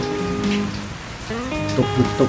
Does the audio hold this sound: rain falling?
yes